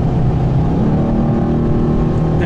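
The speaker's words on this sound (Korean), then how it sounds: "차량은 충분하게 지금 준비가 되어 있고 잠재력이 뛰어넘는데 엔진 리밋이 걸리네요." A Mercedes E63 AMG 4matic engine is held at its rev limiter, making a loud, steady, close-up drone with no talking over it.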